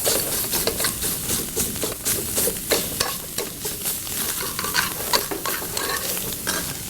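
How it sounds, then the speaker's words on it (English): Mushroom stems and crumbled sausage sizzle loudly in a pan, with continuous close frying crackle and repeated scraping, rhythmic stirring strokes throughout. "So I'm going to throw those stems in there and let those cook"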